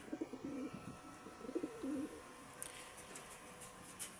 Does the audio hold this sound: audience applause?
no